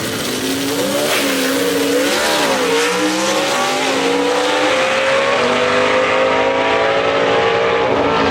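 A gasser drag race car roars hard at Shadyside Dragway, its engine note climbing and shifting in a loud, continuous blast that fills the whole stretch without pause.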